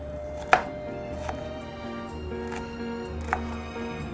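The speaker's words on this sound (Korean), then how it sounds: "씨는 떼어주시고 이렇게 썰어주세요" A knife chops a deseeded vegetable on a cutting board while preparing radish-wrap rolls, giving three sparse, sharp taps spaced about a second apart over a low steady room hum.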